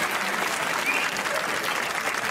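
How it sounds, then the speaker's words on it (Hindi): Studio audience applauding steadily on a Hindi comedy game show, a dense, even wash of clapping held at constant loudness for the whole stretch, with no talk over it. "तालियां होनी चाहिए"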